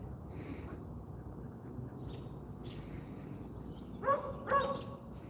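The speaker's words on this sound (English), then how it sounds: "You hear that dog? That dog trying to talk to my dog?" A dog barks twice in quick succession near the end, somewhat distant, over steady outdoor wind and rumbling background noise.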